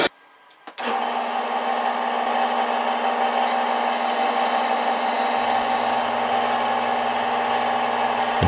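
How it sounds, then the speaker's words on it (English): A gouge cuts a shallow mortise into the bottom of a wooden bowl spinning on a lathe. A steady, loud rasping scrape runs over a constant motor hum, and there is no speech. "here I'm just cutting the mortise in the bottom of the bowl"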